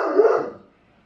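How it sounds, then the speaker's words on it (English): A single close bark, or a short yip, comes from an indoor dog, loud and brief, fading quickly into silence. "I think we have to end on bear barking"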